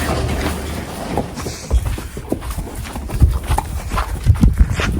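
Horse hooves clip-clopping on hard ground as the animals are walked out to pasture after a late-night barrel race, irregular close steps growing louder and more frequent toward the end.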